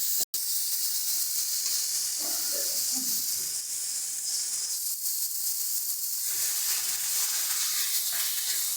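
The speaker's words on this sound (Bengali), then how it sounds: "এবার এর মধ্যে আমরা দিচ্ছি সামান্য পরিমাণে একটু জল।" Spice paste sizzling and hissing in a hot pan after a splash of water, a steady, loud, close sizzle throughout with brief bubbling, and no talk.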